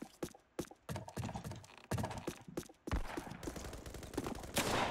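Rapid bursts of gunfire in a Roblox shooting game, with sharp repeated shots in quick clusters, a brief lull, then sustained loud fire.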